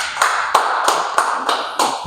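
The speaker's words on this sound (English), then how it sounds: "Can you clap hands for yourself, please?" Hands clapping at a talk event, loud and close, in a steady rhythm of about seven claps over two seconds, with no voices.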